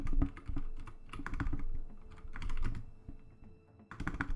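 Typing on a computer keyboard during a live futures day-trading session, rapid irregular clacking in bursts of keystrokes with short pauses, close and fairly clear.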